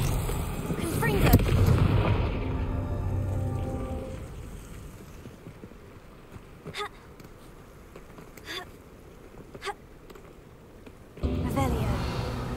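Confringo spell explosions in the Hogwarts Legacy video game boom and rumble loudly at the start, then give way to a few sharp, fainter impacts scattered over a low ambient bed, with talk heard early on.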